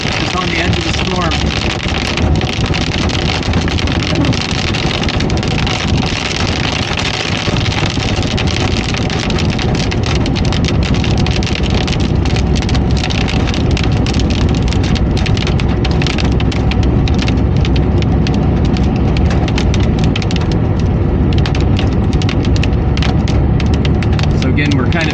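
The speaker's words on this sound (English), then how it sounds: "So these are some pretty impressive impacts from the hail." Hail and rain pound a car during a storm in a dense, continuous clatter of sharp impacts over steady road and engine rumble, with a person talking at times.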